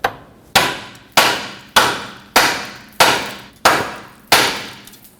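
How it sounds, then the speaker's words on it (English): Eight sharp metallic hammer strikes on a 2006-2010 Hyundai Sonata steering knuckle at an even, unhurried pace, each ringing briefly before fading, close and loud with no talking. "use a hammer, tap on the knuckle right here"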